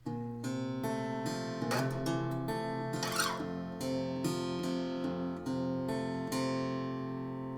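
Acoustic guitar picks the lead-in to the chorus of a song, a steady run of plucked single notes and ringing strings, close and clear, with a brief strummed burst midway and no voice.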